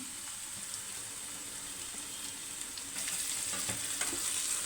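Pav bhaji vegetables with capsicum softening in a pan, a soft, continuous sizzle that thickens slightly midway, with light occasional stirring clicks.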